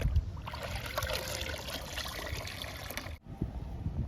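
Neem leaf liquid being poured onto plants: a steady, soft trickle and splash of liquid lasting a few seconds, fairly quiet and close, with a brief break near the end.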